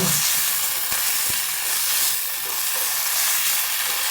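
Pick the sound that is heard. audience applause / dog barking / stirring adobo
stirring adobo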